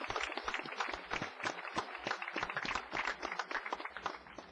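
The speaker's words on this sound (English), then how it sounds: "Another round of applause for this wonderful gentleman." An outdoor Memorial Day ceremony audience applauds a gentleman, a steady patter of many hands clapping, fairly faint and distant, with no talk over it.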